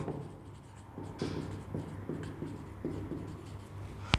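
Hand-writing a math equation with a pen on paper: close, scratchy strokes and short scribbles in an uneven rhythm, ending with a sharp tap.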